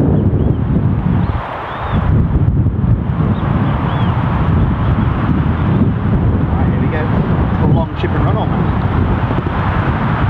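Strong wind buffets the microphone on a golf course at Riddells Bay, a loud continuous rumbling roar with brief dips, under a voice.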